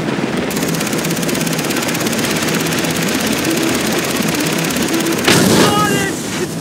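A helicopter in the video game Far Cry 3 drones with a steady rotor thrum amid loud gunfire and chaotic combat noise, a brief burst of louder sound near the end.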